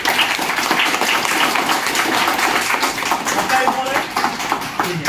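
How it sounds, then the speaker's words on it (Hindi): Applause for a trainee at a mobile phone repair training institute, a dense steady clapping that fills the whole stretch with some voices mixed in. "एक बार इनके लिए जोरदार तालियां भाई।"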